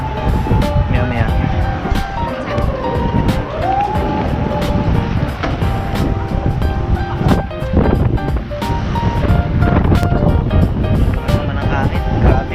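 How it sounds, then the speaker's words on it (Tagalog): Strong wind buffets the microphone outdoors in Ochanomizu, Tokyo, a steady loud low rumble with gusty surges throughout, while a voice talks over it and traffic noise sits in the background. "Ano itong hangin na to?"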